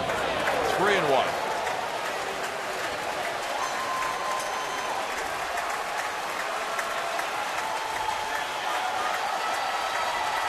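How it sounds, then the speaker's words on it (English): A baseball stadium crowd roars and applauds continuously in a dense, loud wash of cheering, with a commentator's voice heard over it. "It's energy time for this crowd on the 3-1 pitch."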